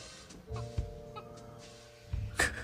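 Chicken clucking in the video game All Of You, a few short bursts of clucks at close range, with a louder squawk near the end, heard alone without talking.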